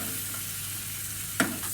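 Steak sizzles in a pan with a steady crackling hiss while its juices are spooned over it, and a short sharp clatter of the spoon lands near the end.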